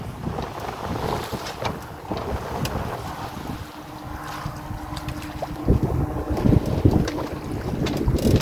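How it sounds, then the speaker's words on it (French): Strong gust of about 23 knots hitting a sailboat while tacking, heavy rushing wind noise buffeting the microphone, growing louder and rougher toward the end. "j'ai eu une grosse rafale d'un coup là qui est montée à 23 nœuds"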